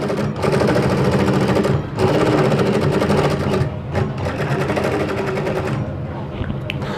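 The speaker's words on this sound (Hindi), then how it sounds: "तो ऐसे रख के इसको भी हम सीधी सिलाई लगा लेते हैं।" A sewing machine runs a straight seam on a sleeve placket in two long bursts, loud, close and steady, with a brief pause between, and no voice over it.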